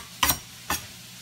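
Brussels sprouts and bacon in a frying pan give two short, scraping sizzle bursts about half a second apart, as if stirred, with quiet background between them.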